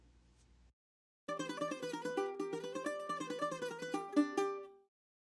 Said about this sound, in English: Next, listen to the sound of a mandolin.